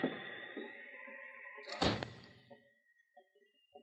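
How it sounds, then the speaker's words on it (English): A single solid door thud lands midway, preceded by creaky movement and followed by faint knocks and shuffling in a quiet room. "Close the door"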